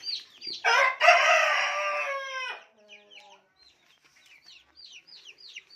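Chickens clucking and crowing close by in a coop, a long loud rooster-like call followed by softer repeated chirps of young chicks hatched under a turkey hen.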